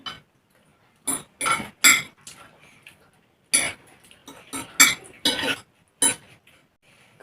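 Metal serving spoons clash and clink repeatedly while rice is dished out at a spicy street food thali meal, several sharp bright bursts in quick clusters separated by brief quiet gaps, close and fairly loud, with no talking.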